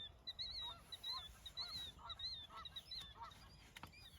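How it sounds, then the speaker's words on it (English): A goose-like bird gives a series of about seven short, nasal honks in a steady rhythm, faint and somewhat distant over a low background rumble. "Come on, little bird, work with me here."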